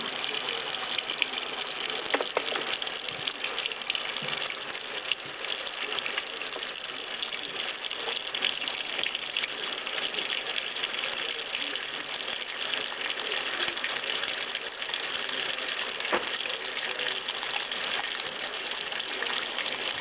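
A washing machine running steadily, a continuous low mechanical churn with faint ratcheting clicks and sloshing water, moderately quiet and unbroken with no voices.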